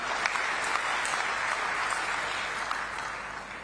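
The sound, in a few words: applause at a farmers' rally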